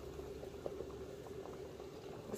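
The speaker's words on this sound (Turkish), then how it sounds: "Choyimizni damlaylik." Tea brewing in a small teapot on a Turkish-style samovar, with a steady bubbling, simmering hiss and small liquid gurgles, close and continuous without talk.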